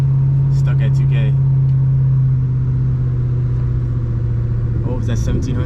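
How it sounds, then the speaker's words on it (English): A car engine stuck idling high at about 2000 rpm after a 78 mm throttle body install, a steady, loud drone with a constant low hum throughout, while someone talks over it. "you can hear the car stuck at 2K"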